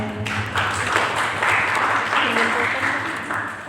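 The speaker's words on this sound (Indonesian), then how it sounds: "tepuk tangan teman-teman" Classmates clap together in a room, a moderate burst of applause rising and tapering over a few seconds, with a low steady hum and some voices mixed underneath.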